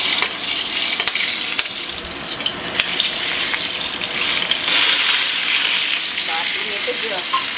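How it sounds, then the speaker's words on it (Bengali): Whole spices for tempering, cinnamon, green cardamom and cloves, frying in a pan produce a loud, continuous hiss with stirring clatter and a few sharp knocks, with no talk. "দারচিনি, ছোট এলাচ আর কিছু লবঙ্গ ফোড়ন ভাজা করে"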